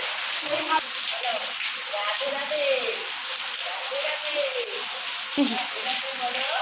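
Steady hiss of rain falling on a surface, continuous throughout, with faint voices murmuring underneath.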